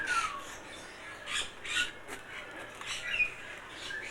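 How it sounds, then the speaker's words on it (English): A great rhinoceros hornbill at a bird park gives faint, rasping squawks in a loose series of short bursts over quiet background noise. "The great rhinoceros hornbill."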